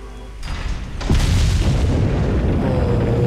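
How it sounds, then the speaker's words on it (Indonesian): A big explosion in Resident Evil 4 during the boss battle with Jack Krauser, a sharp boom followed by a loud, sustained rumbling roar that fills the rest of the moment with no talking. "meledak"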